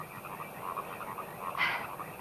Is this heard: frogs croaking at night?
yes